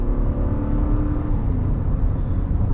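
A 2023 Ram 3500 Big Horn pickup downshifts and accelerates on the highway, giving a loud, sustained low engine roar with road and wind rumble for a few seconds and no talk.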